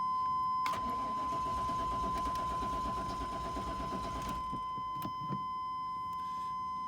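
A Chevy Suburban 4x4 with a sluggish start cranks with a steady loud churning whir for several seconds, then the engine catches and settles, with a few clicks and clunks near the end.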